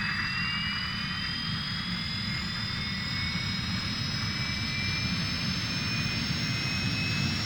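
A Fouga CM.170 Magister jet engine spools up in Microsoft Flight Simulator 2020. It makes a steady, loud whining roar with high tones slowly shifting in pitch, and no one speaks.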